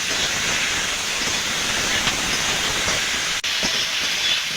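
Black mustard, cumin and green chilli pastes sizzle in a hot pan for a fish and drumstick curry, a steady close hiss of frying with no voices.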